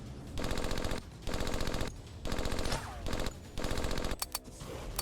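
A Nambu machine gun fires in the Pacific World War II game Beach Invasion 1945, loud rapid bursts of about a second each separated by short pauses, ending in a few scattered single shots.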